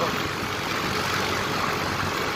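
A motorcycle engine runs steadily at idle, a continuous low rumble with broadband noise and no change in pace throughout.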